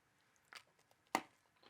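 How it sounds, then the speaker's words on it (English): Two or three crisp crunches of thin, crispy Danish brunkager Christmas biscuits being bitten and chewed, close and fairly quiet, with soft pauses between bites. "time for a taste, I reckon. They even sound crispy."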